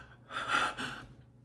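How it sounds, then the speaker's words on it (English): A single heavy, gasping breath from a woman during the closing credits of the film Don't Worry Darling: a quick, breathy intake that swells and falls in two pulses, fairly quiet and alone. "breathing like she just escaped"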